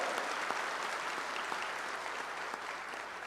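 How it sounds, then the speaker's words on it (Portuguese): Congregation applauding at a Catholic charismatic worship gathering, a dense, steady wash of many hands clapping together for the whole stretch, fairly distant and even in loudness. "Aplaude com força, tomando posse da graça de Deus na tua vida."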